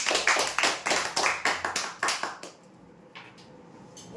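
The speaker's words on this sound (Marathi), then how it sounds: "मग जोरदार टाळ्या बघा" Sharp hand claps from a small crowd at a weekly lucky-draw prize announcement, a quick rhythmic burst for about two and a half seconds that then drops away to a quiet room.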